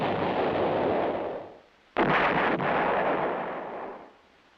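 An M110 self-propelled 8-inch howitzer fires one loud, sharp blast that rolls into a long, fading rumble, set against a steady roar of engine or wind noise.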